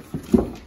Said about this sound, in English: We got a tunnel full of puppies.